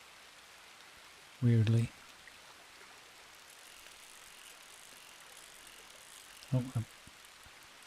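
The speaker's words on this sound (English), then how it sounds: "I think it's just kept the rain sounds" Soft, steady rain hiss in Red Dead Redemption 2 runs faintly throughout as a quiet background bed, broken by two short bursts of voice.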